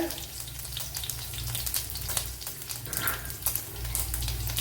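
Mustard seeds, garlic and ginger frying in a tablespoon of coconut oil for a brinjal thoran, a close, steady hiss of sizzling oil with scattered sharp pops and crackles, no talking.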